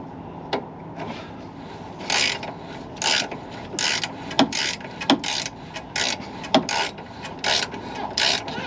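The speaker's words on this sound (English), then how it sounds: "give it just a little more tightening here with the breaker bar" Ratcheting clicks of a breaker bar tightening the in-line transmission filter on a 2004–2007 Ford 6.0 liter Power Stroke diesel, a steady series of close, crisp mechanical bursts with a few sharp metallic ticks.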